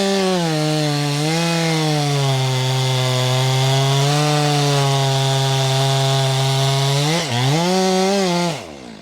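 A chainsaw cuts into wood with metal buried in it, a loud, close, steady high whine that dips briefly under load near the end before cutting off, with no talking.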